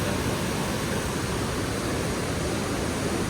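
River flowing near Bayang in Indonesia, a dense, steady roar of rushing water at constant loudness with no pauses or voices.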